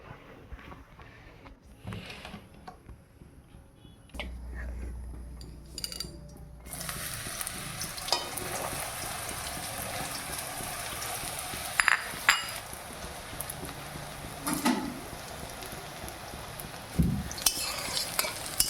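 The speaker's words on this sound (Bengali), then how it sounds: "সয়াবিনটা একটু ভাজিয়ে নিব আমি বন্ধুরা আগে" Small pea-sized soya chunks frying in hot oil in a wok with dry chillies and bay leaves, a steady close sizzle with scraping and clattering of a spatula against the pan, continuing throughout.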